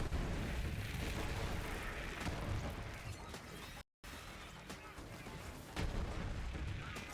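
A series of grenade blasts in a video game, loud deep booms arriving in irregular bursts over dense, continuous gunfire and action noise, with a brief dropout midway.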